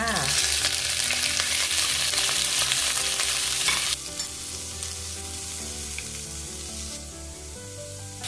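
Shrimp dropped into hot oil in a pan, a loud dense sizzle that abruptly eases after about four seconds into a steadier, quieter frying hiss, close and continuous, with no talking.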